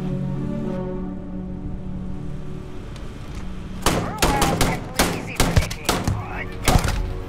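Rapid gunfire bursts in the space RPG Starfield crack out in the second half, sharp loud shots in quick irregular clusters after a quieter stretch of ambient hum.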